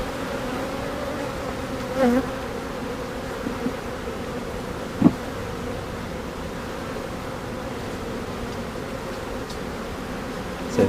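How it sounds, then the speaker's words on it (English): Honeybees buzz in a dense, steady drone as they are shaken from a hive frame, loud and close throughout, with a few faint knocks from the frame. "I just need to shake some bees into it."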